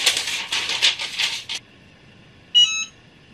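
A Bluetooth-controlled heat press set to 155 degrees gives a short electronic ready beep, a single bright tone sounding alone after a few seconds of rustling and tapping.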